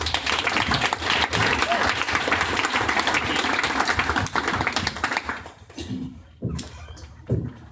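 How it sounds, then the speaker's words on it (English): Audience applause for a guest speaker at an evening online-marketing talk for entrepreneurs, a dense, loud burst of clapping that thins and fades toward the end, with a few scattered claps. "Please give a big round of applause for Mr."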